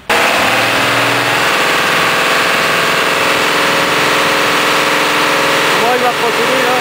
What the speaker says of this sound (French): Donc là il accélère le tracteur à fond